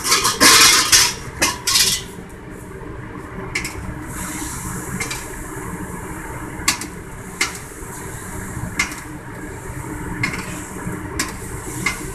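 Cooked vegetables for moo goo gai pan scooped out of a pan, a loud metallic scrape and clatter at first, then repeated sharp utensil taps against the pan over a low background hum.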